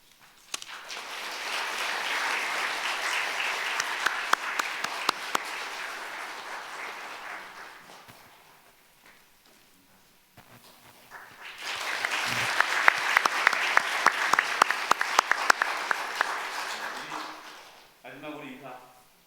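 A church congregation applauds at a Korean retirement ceremony for church officers: two long bursts of clapping, the first fading out midway, the second swelling up again before trailing off, with faint movement between.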